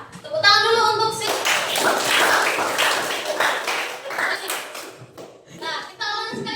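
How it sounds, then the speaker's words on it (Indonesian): A group of children clapping their hands together in a classroom, a quick burst of claps lasting several seconds, close and lively, with voices of kids and a teacher speaking before and after. "Tepuk tangan dulu"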